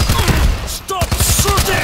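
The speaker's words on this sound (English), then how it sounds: "Stop shooting!" Rapid automatic gunfire rattles loudly and steadily in World War Z, the zombie shooter game, a dense close-up burst that continues throughout, with shouted voices cutting in over it.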